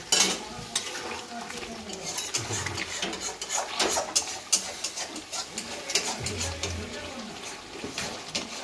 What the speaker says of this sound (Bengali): মাংসের কষা চলছে